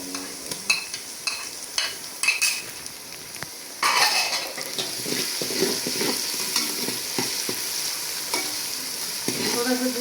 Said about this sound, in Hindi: अभी इसी के अंदर डाल दूँ अदरक लहसुन का पेस्ट। हल्की आंच में मैंने ब्राउन करना है।